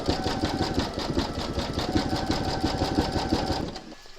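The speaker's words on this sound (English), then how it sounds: "pop your hoop into your machine and stitch round number 7, and that will zigzag along here and join all the pieces together" An embroidery machine zigzag-stitches to join appliqué pieces held in a hoop, a fast, even mechanical chatter running loud and close for several seconds before it stops.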